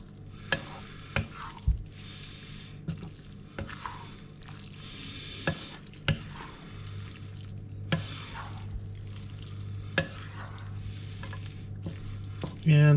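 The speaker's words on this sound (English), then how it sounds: "I'm going to take the noodles and I'm going to dump them into the sauce and stir them around" Spaghetti noodles being stirred into a pancetta and tomato sauce in a wok, with soft scraping and wet shuffling, intermittent sharp knocks of the utensil against the pan, and a low steady hum beneath.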